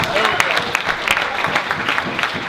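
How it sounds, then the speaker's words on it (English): Audience applause breaks out at a talk, a loud, dense patter of clapping from a close crowd that continues without a break. "Give John a round of applause."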